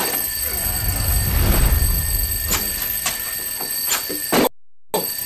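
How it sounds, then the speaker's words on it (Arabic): A steady electronic alarm clock rings continuously with a high, piercing tone, joined by a few sharp clicks and thumps, then cuts out briefly before resuming. "يا نهار أبيض، مش سامع المنبه."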